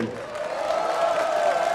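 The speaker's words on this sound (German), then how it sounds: "da sollt ihr jetzt richtig klatschen, damit das richtig gehört wird" A crowd at an Austrian Frühschoppen in Matrei in Osttirol cheers and calls out in a dense, loud swell of voices and clapping, rising slightly over a brief moment.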